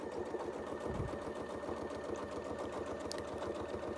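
Domestic sewing machine stitching a quilt guided by a ruler template, a steady rapid mechanical chatter running continuously and close at even loudness, with no talk.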